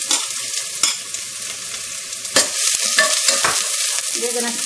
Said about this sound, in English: We're gonna saute this for a little while, and also I'm gonna add potatoes with that.